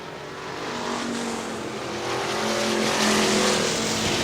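Factory stock race cars charge into a turn at Hartford Speedway Park in Hartford, Michigan, a dense, loud roar of several engines building as the pack passes, with rising engine tones and a touch of tire noise.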